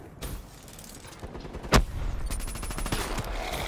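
Rapid gunfire in Black Ops 3 on PS4: a steady automatic burst crackles across the clip, with one loud heavy blast near the middle standing out.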